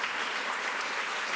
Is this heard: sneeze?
no